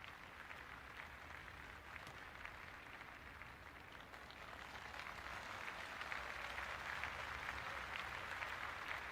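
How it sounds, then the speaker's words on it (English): Stadium crowd noise from the Cricket 26 video game, a steady wash of cheering and clapping that swells slightly toward the end, heard fairly faintly with no talk over it. "The crowd is electric right now."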